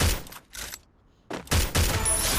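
Gunfire from the Free Fire video game, a ranked solo match using a Winchester and Mag7: loud bursts of rapid shots in two clusters separated by a brief quiet gap, the second burst sustained to the end.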